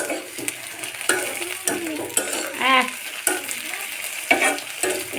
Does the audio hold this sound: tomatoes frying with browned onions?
yes